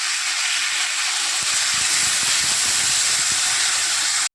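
Spices frying in a ginger, chilli and tomato paste with potatoes give off a loud, steady hiss close by that holds without a break, then cuts off abruptly at the end.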